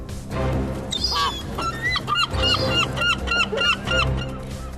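Seagulls in Scotland call in a rapid, repeated series of squawking cries, fairly close and loud over a steady rumbling background noise.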